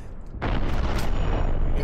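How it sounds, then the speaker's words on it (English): A missile detonates in the space game Cosmoteer, a sudden loud boom after a brief quiet start that rolls on as a dense, sustained rumble to the end. "the explosion, you know, can hit stuff behind the shield"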